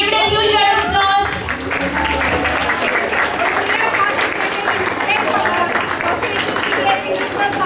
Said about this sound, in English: Give it a huge round of applause.